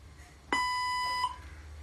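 A language translator robot gives a single steady electronic beep prompt lasting under a second, clear and tonal against a quiet room.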